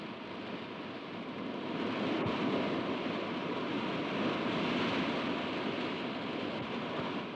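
Steady surf washes against the shore at Mamallapuram, a continuous broadband hiss of sea waves that swells slightly partway through, with no voices.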